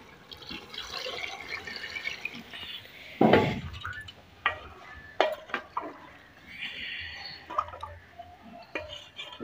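Water poured into a pan of frying lentils sets off a sudden loud splash and hiss midway, followed by scattered drips, clinks and softer sizzling.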